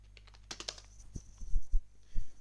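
A command is typed on a computer keyboard, a short quick run of close, crisp key clicks followed by a few heavier thumps, likely the final keys being pressed.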